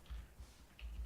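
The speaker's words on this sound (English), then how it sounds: "let me type it in again" Computer keyboard typing, a few soft low taps in short bursts with faint clicks, close and quiet, no one speaking.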